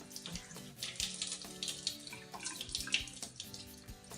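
Water running from a tap into a sink while a face is being wetted, a continuous splashing flow with small irregular splashes, close and soft.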